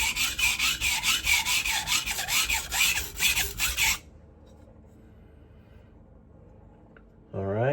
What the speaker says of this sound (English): this is a 400 grit. You can probably hear it's loud.